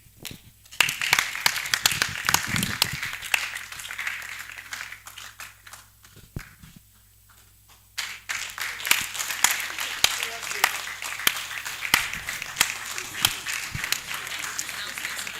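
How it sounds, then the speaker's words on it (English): A conference audience applauds in a steady patter of many hands, fading briefly to near quiet midway before the clapping resumes, with some voices under it. "So a round of applause for all of them."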